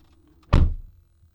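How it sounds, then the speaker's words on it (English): The car door of a 2020 Jaguar XE P300 shuts once with a single solid, deep thunk close by that fades quickly into quiet. "shutting the door on the Jaguar XE."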